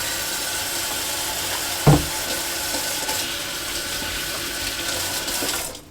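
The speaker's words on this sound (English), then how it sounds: "Let me wash my hands now." A kitchen tap runs steadily as hands are washed beneath it, with a short knock near the start, then an even rush of water that cuts off abruptly at the end.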